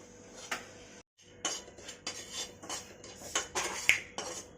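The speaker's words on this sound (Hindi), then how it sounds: "हल्का ब्राउन होने तक आटे को भी हम भून लेंगे।" Flour roasts in a pan while a spoon stirs it, giving repeated metallic scrapes and clinks at an uneven pace. There is a brief pause early on, and the stirring is close and moderately loud.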